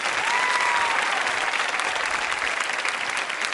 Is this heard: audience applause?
yes